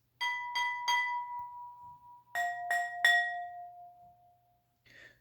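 Household objects set on a soft towel are struck in two groups of three, each hit ringing out with a clear, sustained glassy pitch that fades slowly, close and alone, with a faint final tap.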